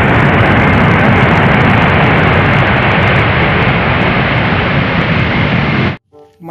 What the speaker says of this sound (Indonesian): lihat, ada pesawat terbang.